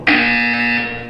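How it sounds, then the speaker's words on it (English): A loud, steady electronic buzzer from the Portal 2 video game sounds once, starting abruptly and holding its harsh tone for about a second before easing slightly. "When you hear the buzzer, look down at the floor."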